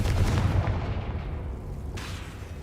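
A Confringo blasting spell in a Harry Potter video game detonates with a heavy, rumbling explosion that dominates the start, then decays into a rolling roar with a sharper crackle near the end.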